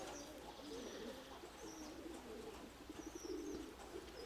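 Soft, repeated coos of young pigeons murmur through a steady background hum, with a few faint higher chirps drifting in over the low cooing.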